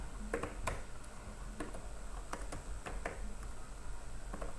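Light, irregular clicks of keys being typed on a keyboard, quiet and close, in short bursts with pauses between.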